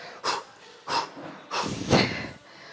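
Loud, forceful breaths during a glute and hamstring workout, three sharp exhales in a row, the last longer and rougher, close to the mic with no talking.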